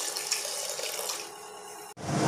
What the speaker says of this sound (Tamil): ஒரு டம்ளர் அளவு தண்ணி சேர்த்திக்கலாங்க.